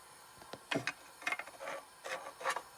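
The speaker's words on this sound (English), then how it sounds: "Then we slide on the cover." A plastic cover slides onto an NCE PowerHouse Pro model railroad command station, giving a few brief, close scraping and clicking rubs in quick succession.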